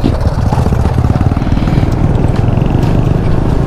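A Honda PCX scooter engine drones steadily and loudly during riding, with a throbbing rhythm and heavy wind rumble, close up and continuous throughout.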